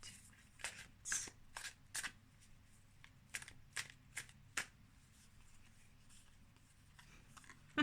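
Tarot cards being shuffled and drawn, a series of crisp close riffles and flicks in an uneven rhythm, quiet overall, tapering into near silence with a single sharp snap at the end.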